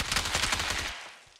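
A quick burst of gunshots from an AI bot in Arc Raiders, several sharp reports in fast succession, loud and close, then trailing off into a fading tail.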